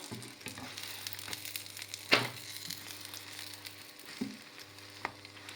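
An egg frying in a pan beside a tortilla wrap gives a low steady sizzle, with a louder crackling burst midway and a few soft scraping knocks as it is lifted and flipped.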